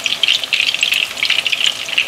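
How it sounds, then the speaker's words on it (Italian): Fried pork meatballs sizzle and bubble steadily in tomato sauce, a close, continuous crackling simmer with no voices. "le preleviamo dall'olio della frittura e le tuffiamo nella salsa di pomodoro e lasciamo cuocere così per una trentina di minuti"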